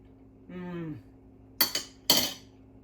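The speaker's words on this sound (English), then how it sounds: "I'll grab 2 spoons, one for later." Two spoons picked up in a home kitchen, two close, bright metallic clinks in quick succession after a short voiced sound.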